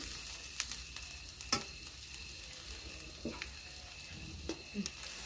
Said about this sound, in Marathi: हा कांदा आहे ना चांगला परतून घ्यायचा कच्चा नाही राहू द्यायचा काळा नाही करायचा